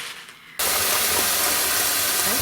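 A steady, loud rushing hiss starts abruptly after a brief quiet moment and continues evenly, like a strong stream of water pouring close by, as water is poured over orchid roots during repotting.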